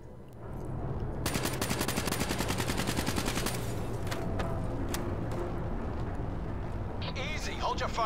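Automatic gunfire in the video game Call of Duty Black Ops 3, a rapid, steady burst of shots lasting a couple of seconds, followed by scattered single shots and battle noise, with voices speaking throughout.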